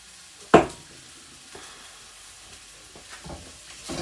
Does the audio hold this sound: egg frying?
yes